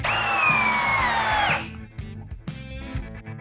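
A Procraft CD20B cordless drill whines loudly at high speed in turbo drilling mode for about a second and a half, winding down a little before it stops, followed by quieter clunks and handling noises.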